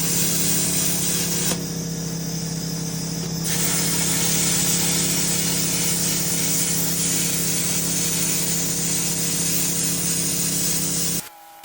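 A YESWELDER plasma cutter cuts metal freehand, a loud continuous hissing roar that holds steady for about eleven seconds before stopping abruptly, with no voices over it.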